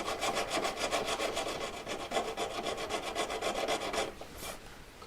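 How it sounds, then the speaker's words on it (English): A hand file rasps straight down on a workpiece while a V claw is shaped, a steady close run of rhythmic up-and-down strokes that eases off near the end. "So just filing straight down"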